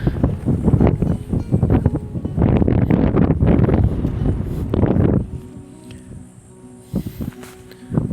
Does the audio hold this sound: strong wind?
yes